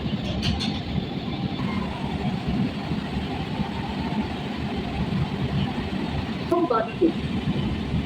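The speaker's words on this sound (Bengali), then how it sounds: "ট্রেন এখন পৌঁছে গেল ভিআইপি বাজার স্টেশন" A Kolkata Orange Line metro train running toward VIP Bazar station, its steady low rumble and hum filling the carriage, with brief chime-like tones near the end and no speech.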